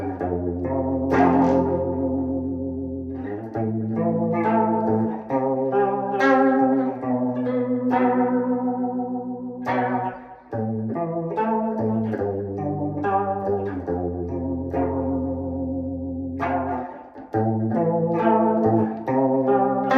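An electric guitar is played through a Tailspin vibrato pedal, chords and melodic lines wavering in pitch with a warbling, chorus-like shimmer, loud and continuous with no talking.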